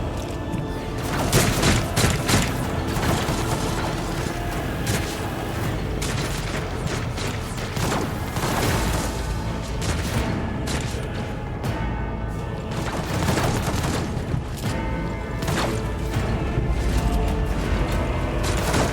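Dense, continuous battle noise from Warhammer 40k: Rogue Trader, with overlapping gunfire, booms and clanking impacts at a steady loud level throughout, no voices.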